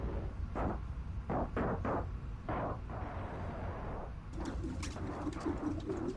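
Pigeons coo in the Marvel's Spider-Man: Miles Morales video game, several low, soft, rounded calls at irregular intervals, followed by a busier, fluttery burst near the end, quiet and alone.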